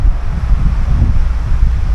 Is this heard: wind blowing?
yes